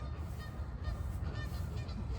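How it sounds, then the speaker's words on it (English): Geese near a large water feature in the Asian section of a botanical garden honk steadily over a loud, continuous rush of flowing water. "Geese being geese."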